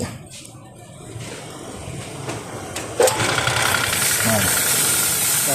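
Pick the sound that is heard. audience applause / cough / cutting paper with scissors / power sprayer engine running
power sprayer engine running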